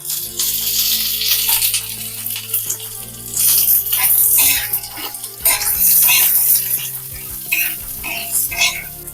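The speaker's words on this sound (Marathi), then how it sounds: "थोडा तेल टाकायचा" Oil sizzles and crackles steadily in a pan while an egg curry is being cooked Marathi style, with clinks and stirring sounds of a utensil against the pan rising and falling through the sizzle.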